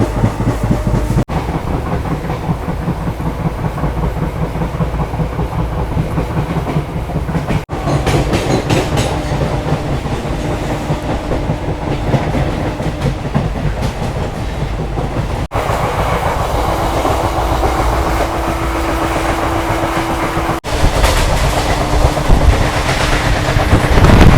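Night train from Digha to Kolkata heard from inside a near-empty coach: a loud continuous rumble with rhythmic wheel clatter on the rails throughout.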